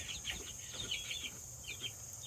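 Chickens on a homestead near a pond cluck in short, scattered bursts over steady low outdoor background noise, with faint wing flaps mixed in.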